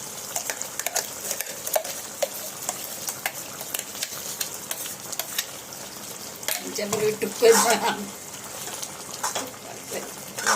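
Masala paste going into a Malvani-style mutton gravy and being stirred, with a steady wet bubbling and sizzle broken by frequent ladle scrapes and clinks, growing busier and louder toward the end, close up.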